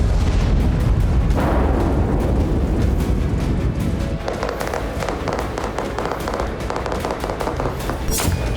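Explosions from Israeli strikes in war footage rumble and crack continuously, a dense barrage of booms and sharp blasts with a heavy, loud low-end roar throughout.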